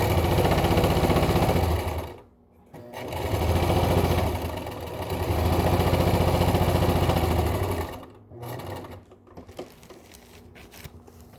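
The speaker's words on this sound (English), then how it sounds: "So I'm just going to sew all the way across the bottom." A sewing machine runs across the bottom of a pleated 100% cotton face mask in two long, steady humming runs with a rapid needle rhythm, then pauses before a shorter, quieter burst near the end.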